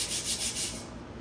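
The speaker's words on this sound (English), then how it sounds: "A little sanding, look at that." Short rhythmic rubbing strokes of sanding, a few quick back-and-forth scrapes, close and fairly quiet, then fading out.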